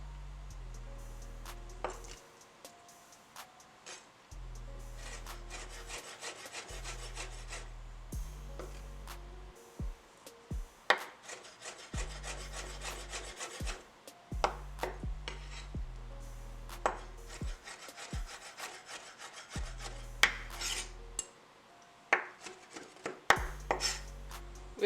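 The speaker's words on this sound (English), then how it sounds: "We are now ready to rough chop our roasted red pepper and our garlic. Just a few chops." A knife rough-chopping roasted red pepper and garlic on a cutting board, a series of crisp close knocks in short irregular clusters, quiet and alone with no talking.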